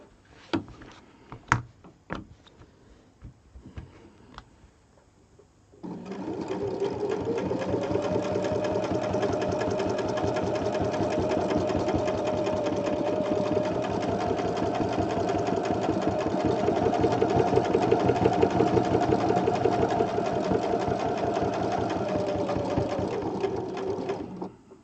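A sewing machine stitches an Angel Wings embroidery design; a few light clicks and taps give way to a steady, loud mechanical hum with fine rhythmic ticking that runs unbroken for nearly twenty seconds.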